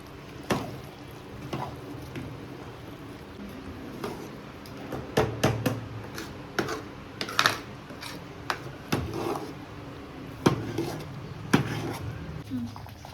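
Spoon scraping and knocking against a pot while lentils (dal) are stirred for puran poli filling in a home kitchen, with irregular close clatters and taps over a low simmering background.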